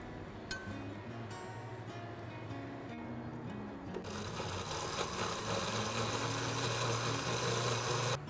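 Blender blending toasted noodles, with a few clicks and short bursts before the motor surges into a steady, dense grinding whir for the last four seconds.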